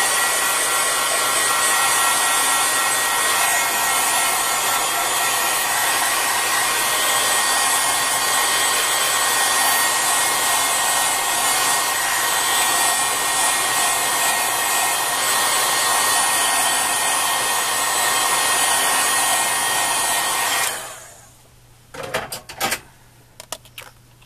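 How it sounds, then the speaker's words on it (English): A heat tool blows hot air onto a freshly stamped card for drying. Its steady, loud, close whir runs continuously for about twenty seconds, then cuts off, followed by a few faint clicks and handling noises. "at this point you want to heat dry it"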